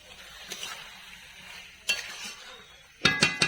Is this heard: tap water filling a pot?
no